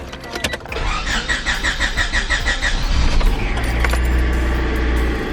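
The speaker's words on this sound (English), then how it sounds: "First startup since it going onto the jack stands" A 1995 Honda Civic hatchback engine cranks with a rapid whirring starter, then catches and settles into a steady, loud rumbling idle.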